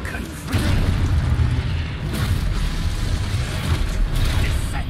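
Confringo explosive spell blasts in a Harry Potter video game, a loud sustained rumbling boom with heavy low-end roar that swells after half a second and stays dense and continuous to the end.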